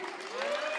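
Applause from a crowd at a prize distribution ceremony, a steady wash of clapping with voices mixed in, fairly close and moderately loud for under a second.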